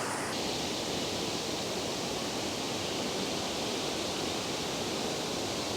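Heavy water pours over a lower waterfall in a dense, steady roar that stays loud and close throughout, with no voices.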